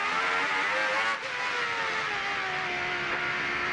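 A high-revving Renault Espace F1 engine screams at steady volume, pitch sliding slowly downward as it accelerates and shifts, close and loud throughout.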